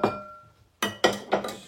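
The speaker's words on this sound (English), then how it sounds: "So I'm putting it in a glass loaf pan." A food mixture goes into a glass loaf pan with several bright glassy clinks and knocks, three or four close, sharp hits, with no talking.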